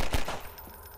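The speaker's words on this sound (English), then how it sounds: "I'll do some gunshots for ambience" Gunfire in the horror game Garry's Mod: a short, loud burst of shots right at the start that quickly decays into a dim, echoing tail.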